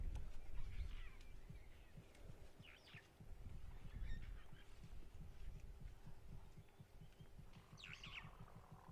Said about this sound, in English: the fork-tailed drongo, the little blackbirds that you can hear chirping away